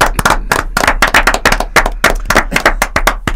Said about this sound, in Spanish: ¿A quién vamos a aplaudir?